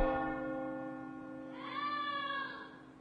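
A huge bronze bell tolls once, a rich sustained ring with layered overtones that swells and slowly fades, heard alone.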